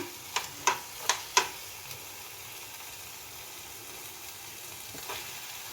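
Grated carrot cooks in ghee for carrot halwa, four sharp scraping strokes in quick succession over a soft steady sizzle, then a lighter scrape later, close and with no talking.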